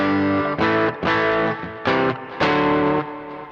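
Electric guitar played through a Boss Katana amp on its crunch channel, a handful of distorted chords struck one after another with short gaps between, loud and close with no talking.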